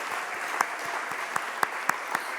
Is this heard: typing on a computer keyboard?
no